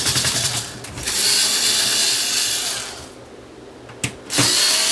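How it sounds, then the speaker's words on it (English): A power screwdriver runs in a continuous, loud high-pitched whir that gradually fades, then stops and restarts with a short burst, close by, during work on a Sony STRAV450 receiver. "We have power screwdrivers for a reason."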